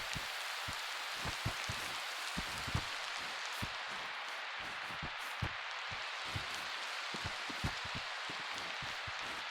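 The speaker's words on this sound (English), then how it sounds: "Okay, so 1 minute it rained, now it's hailing." Steady hail falling during winter weather in a survival exploration game, a constant dense hiss of pattering with scattered sharper ticks and thuds of individual stones, even in level throughout.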